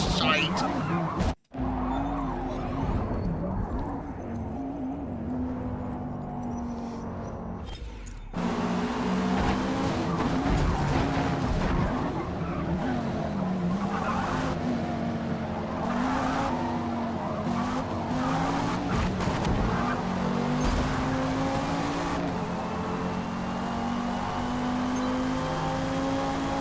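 Audi race car in the Forza racing game roars continuously with engine drone and tire squeal while skidding, loud and close for the whole stretch, with a brief cut early on and speech at times over it.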